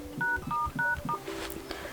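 Keypad tones sound from the phone dialer of an LG V50 ThinQ as a secret code is entered: four or five short, crisp DTMF beeps in quick succession, close and clear, with faint tapping and no voice.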